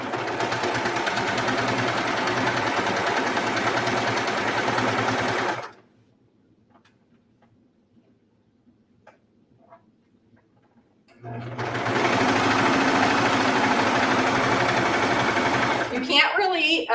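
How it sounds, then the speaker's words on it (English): A sewing machine stitching a child's Christmas dress skirt runs steadily and loudly for about five seconds, pauses into near silence with faint handling, then starts again at the same steady whirring pace. "Sewing this skirt."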